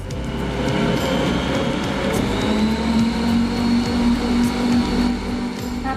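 A stand mixer kneading pumpkin bread dough, giving a loud, steady motor whir with a rhythmic thumping churn throughout and no talking.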